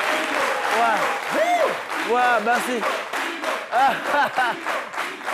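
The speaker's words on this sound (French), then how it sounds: "les applaudissements, souvent, c'est bien" Audience applause in a French talk-show studio, a dense wash of clapping that rises and falls throughout, with a voice speaking over it.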